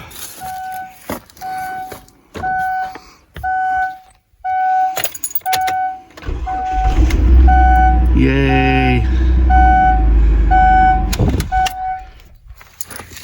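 Keys jingle and a repeating chime beeps inside a 2005 Kia Sedona before the new starter cranks the engine, which catches and runs loudly for several seconds, then shuts off.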